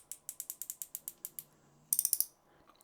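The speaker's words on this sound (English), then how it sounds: "drag sound or braking sound is very, very loud" A KastKing Kestrel spinning fishing reel's drag clicks close up: a run of about a dozen evenly spaced ratcheting clicks, a short pause, then a quicker burst of clicks before it stops.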